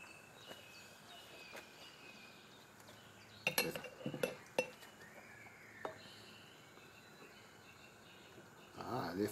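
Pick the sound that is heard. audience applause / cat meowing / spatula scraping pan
spatula scraping pan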